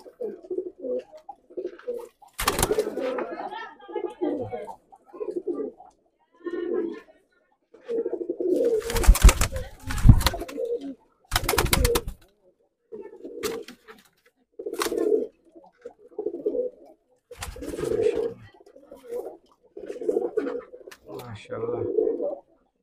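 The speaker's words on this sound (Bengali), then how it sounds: "আমার নীলদুম্বা কবুতর, একটা বাচ্চা আছে।" Nildumma pigeons, adults and a chick, coo in soft repeated bursts close by. Loud rustles or wing flaps break in now and then.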